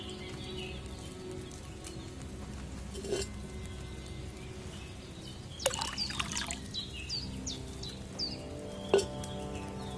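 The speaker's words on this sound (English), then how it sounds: "First, you have to pour the right base into the cauldron." Wine poured from a pitcher into a cauldron in Kingdom Come Deliverance II: a faint trickling pour over a quiet ambient bed, with birdsong chirps scattered across it.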